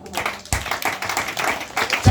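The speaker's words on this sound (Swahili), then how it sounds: "chapia ya makofi" A church congregation claps hands in an irregular burst, sharp claps close by amid crowd noise and voices.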